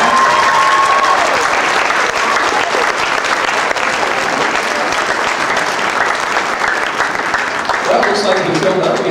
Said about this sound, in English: Let's give them a big round of applause as they're doing that.